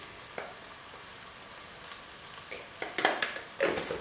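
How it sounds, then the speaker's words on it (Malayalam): Spices including coriander and turmeric sauté in a pan for Kerala mackerel fish curry, giving a faint steady sizzle, then a few louder stirring scrapes toward the end. "ഇത് വതക്കി ഒന്ന് ഇളക്കി കൊടുക്കുക"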